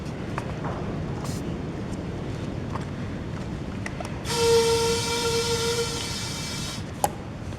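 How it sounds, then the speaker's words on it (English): A cheap Harbor Freight tire inflator airs up snowblower tires, a steady rattling motor drone with a brief brighter whine partway through and a sharp click near the end. "He just got one of these cheap inflators from Harbor Freight."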